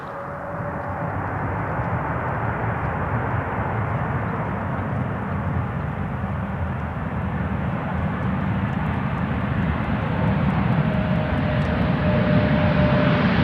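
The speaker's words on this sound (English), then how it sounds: "Here's Turkish flight 1951 coming in from Istanbul, Airbus" Turkish Airlines Airbus A330-300 arriving from Istanbul on approach to Amsterdam Schiphol runway 18R, a steady loud broadband jet roar with a faint rising whine, sustained throughout and swelling slightly as it nears.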